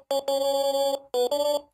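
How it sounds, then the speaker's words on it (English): Auto-tuned dog bark sample, stretched and pitched in a sampler, giving two short bursts of a buzzy, synthetic pitched tone with a beep-like quality. "I put the little like dog bark auto-tune thing and then put it in the sampler,"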